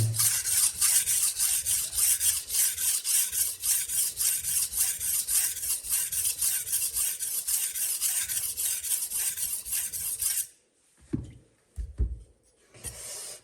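Steady rhythmic rasping of a knife blade stroked across a whetstone, continuous and close for about ten seconds, then a few brief scrapes after a pause.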